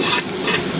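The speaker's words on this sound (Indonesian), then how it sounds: "Kita masukkan bumbunya yang sudah tadi kita tumis ke dalam kaldu ya." Sautéed spice paste for soto ayam being stirred into chicken broth in a pot, a close, loud hissing sizzle with soft stirring scrapes, brief and continuous.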